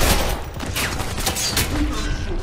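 Rapid bursts of weapon fire in the first-person shooter F.E.A.R. 3, continuous and loud across the short span with busy battle noise and faint voices behind.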